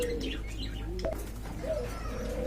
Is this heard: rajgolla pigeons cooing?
yes